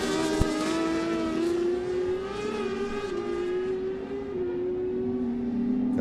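Rallycross race cars accelerate hard up through the gears at Mondello Park, the loud engine note climbing in pitch, dropping at each shift and climbing again, with a sustained roar throughout.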